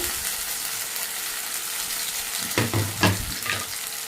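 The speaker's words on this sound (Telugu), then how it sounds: "మసాలా ముద్ద అంతా మంచిగా వేయించుకోవాలి." Cashew masala paste fries in a pan with a steady, even sizzle, and near the end a few scraping stirs of a spoon against the pan cut through the frying noise.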